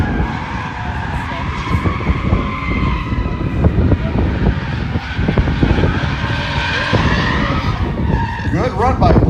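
A Nissan 350Z drifts at an event on open plains, tires skidding and engine roaring loudly and continuously close by, with a commentator talking over it throughout.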